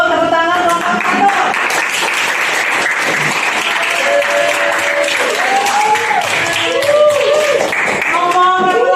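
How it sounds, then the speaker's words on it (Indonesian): Classmates applaud a student in a school classroom, with loud continuous clapping and cheering voices over it for several seconds, close and lively. "Tepuk tangan buat Alvaro"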